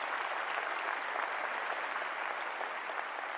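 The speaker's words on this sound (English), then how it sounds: "A loud round of applause" A large crowd at an Illinois governor's inauguration claps steadily, a dense, even wash of applause that holds at full strength throughout.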